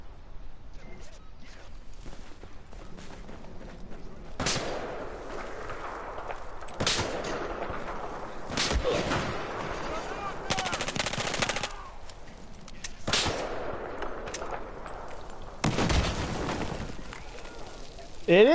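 Pistol shots in a video game ring out as single sharp cracks spaced a few seconds apart, with one quick cluster midway, over a quiet rumbling background.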